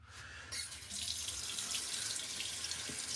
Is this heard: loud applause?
no